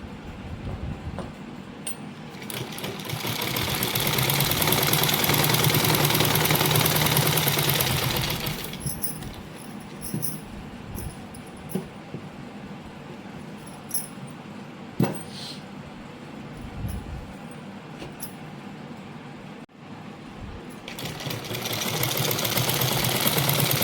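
An electric sewing machine stitches a belt onto a lehenga in two bursts of fast, even whirring, one over the first several seconds and another starting at the end, with quieter handling clicks and rustles between.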